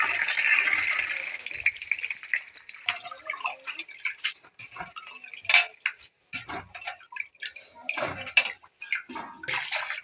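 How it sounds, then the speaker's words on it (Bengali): Leafy greens (a village-style mete shak) splashed and rinsed by hand in plenty of water to wash out sand, with irregular close splashes and drips, faint and alone. "শাকটাকে ভালো করে আমি জলে ধুয়ে নেবো"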